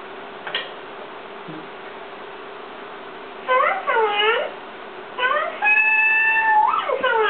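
Cat meows played from a video to excite a cat come as several rising and falling calls, clear and fairly loud, after a quiet stretch with a faint tick near the start.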